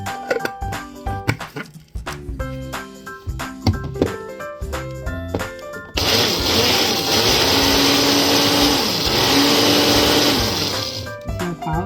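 An electric chopper whirs loudly and steadily, finely dicing seasoning ingredients into a paste after a stretch of clattering kitchen handling noises.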